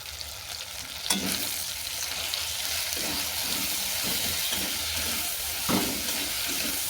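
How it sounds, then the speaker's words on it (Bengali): Spice masala with chilli powder and salt frying in a pan for a snake gourd dish, a steady close sizzle with several scraping strokes of the spatula as it is stirred. "মশলাটা ভালো করে কষিয়ে নিচ্ছি"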